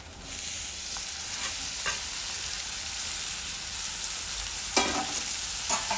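Thin, long slices of wild bitter gourd frying in a pan with onions and masala, giving a constant close sizzle with a few scraping stirs and a louder clatter near the end, no speech.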